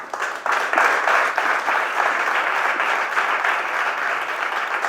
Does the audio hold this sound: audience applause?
yes